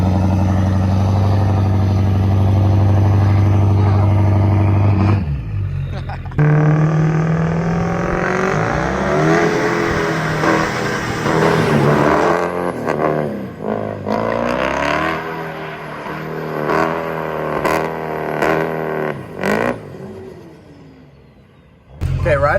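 A Ford 6.4 Powerstroke diesel truck in a parking lot revs hard and accelerates, struggling to build boost, its engine roaring in long, rising and falling surges, loud and close, with brief pauses between pulls.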